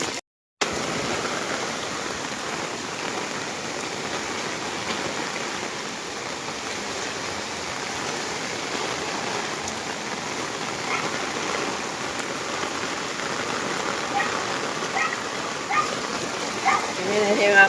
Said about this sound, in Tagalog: Grabe ang ulan ngayon.